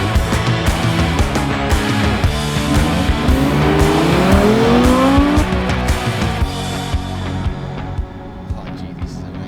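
A 2023 Audi R8 V10 accelerates hard with climbing engine notes and brief tire noise, loud and close, before easing off toward the end. Voices are faintly present beneath the engine.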